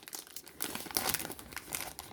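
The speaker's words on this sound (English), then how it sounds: "I'm gonna tear this open because I didn't bring scissors." Plastic wrapping of a candy sushi kit crinkles and crackles as it is torn open by hand, a close, busy rustle in irregular bursts that grows louder partway through.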